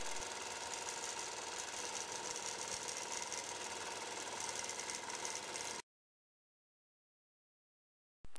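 Quilting machine needle cycling nonstop in stitch mode, a close, steady rapid mechanical chatter that runs evenly for several seconds and then cuts to silence.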